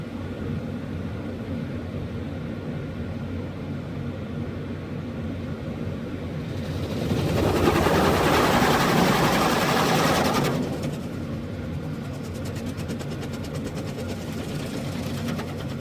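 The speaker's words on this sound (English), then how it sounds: "Another high pressure jet, no less." An automatic car wash runs under a low mechanical hum until a loud high-pressure water jet blasts across the car for a few seconds with a broad hissing roar, then cuts back to the steady drone.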